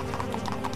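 A horse's hooves clip-clop in the game Legacy of the Templars: 1428 Shadows over Silesia, a quick, close, regular run of hoofbeats with no talk.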